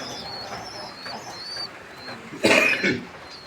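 Pigeons in a pigeon loft in Thakurnagar, West Bengal, India, coo softly and repeatedly against a quiet background, with a sudden louder burst of nearby bird noise near the end.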